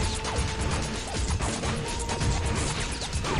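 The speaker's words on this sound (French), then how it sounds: "si tu fais clic droit, bah, ça envoie des grenades" Assault rifle grenade fire in Unreal Tournament 2004 makes dense, continuous crashing and smashing blasts with mechanical clatter, loud and busy throughout, no speech.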